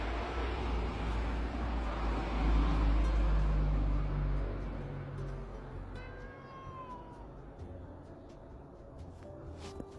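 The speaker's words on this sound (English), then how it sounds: "Sorry guys if you hear a meow, that's my cat." A single cat meow rises faintly in the background around the middle, over steady low room rumble with no talking.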